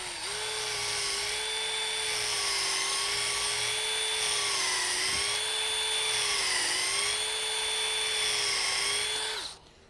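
A drill bores a large hole through a Kar 98 rifle part in a workshop, a loud steady high-pitched whine that dips slightly under load several times, then stops abruptly at the end.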